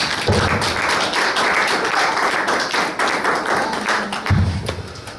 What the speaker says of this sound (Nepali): ताली थोरै भयो जस्तो लाग्यो, अलिक छोटै भयो।